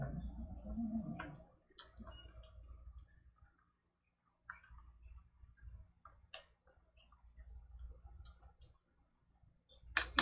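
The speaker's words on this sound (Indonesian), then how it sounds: "input natin ngayon sa calculator" Calculator buttons pressed during an engineering calculation, a series of light, scattered taps and clicks at an uneven pace with short pauses, up close and faint, alone without speech.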